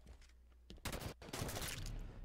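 Sniper fire in the Halo 5 video game, heard as a few sharp loud gunshot bursts with echoing tails around the middle of a short stretch of in-game action.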